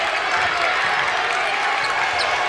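The home crowd at a high school boys basketball game, Lapel Bulldogs fans in a gym, gives a dense, steady wash of cheering and applause that holds loud and even throughout.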